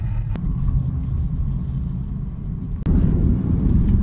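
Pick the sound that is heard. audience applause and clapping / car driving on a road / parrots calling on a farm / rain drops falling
car driving on a road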